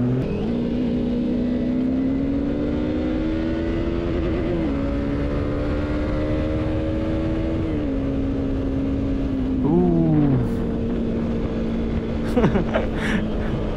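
A 390 motorcycle engine humming steadily while riding in Hyderabad traffic during a group superbike ride, with several rises and drops in pitch as the throttle changes and a brief louder rev near the end.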